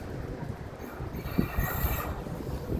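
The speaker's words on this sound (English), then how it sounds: "This is the train station in Castricum" A train runs at Castricum train station in the Netherlands, with a steady rumbling roll of wagons and a few clunks of wheels over the rails, close by.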